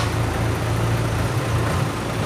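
A six-wheel dump truck reverses at a pond-digging site, its engine a steady low diesel rumble at moderate distance with no pauses.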